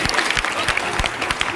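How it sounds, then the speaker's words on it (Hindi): Audience clapping for an elderly man after a tongue-twister recital, a short burst of brisk, close hand claps over crowd murmur. "ताली बजाइए चाचा जी के लिए।"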